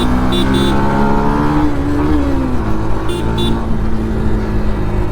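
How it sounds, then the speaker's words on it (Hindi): A 2024 Yamaha FZ S V4 motorcycle is ridden fast on the road, its engine a loud, sustained drone with a slowly shifting pitch, and short horn toots from traffic sound twice. "क्या भाग रही है भाई बाइक"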